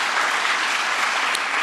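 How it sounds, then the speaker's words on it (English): An audience applauds for a County Executive at a public event, a dense burst of clapping from many hands, loud and sustained throughout with no voices over it. "Let's give a great round of applause for our County Executive, Steve Ballone."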